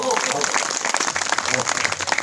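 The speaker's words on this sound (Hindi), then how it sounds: "ताली लगा दो" Audience applause at a religious discourse, a burst of scattered clapping from a crowd lasting about two seconds, with talk mixed in.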